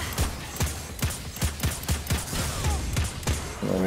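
Automatic weapon firing rapidly in Destiny 2, a steady train of sharp punchy shots spaced evenly about a quarter second apart, loud and close with little else in between.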